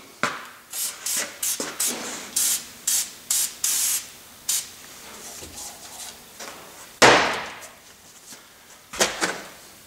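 A lubricant spray on a 2005–2010 Honda Odyssey lower ball joint, delivered as a series of short, close bursts in quick succession, then a longer hiss and a final spurt.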